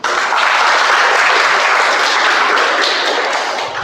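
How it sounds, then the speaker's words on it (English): Loud, dense clapping fills the room at a Toastmasters Onam meeting, a close and unbroken burst lasting about four seconds before tapering slightly. "Can we clap, please?"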